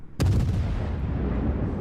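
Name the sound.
naval gunfire crossfire from ships in World of Warships video game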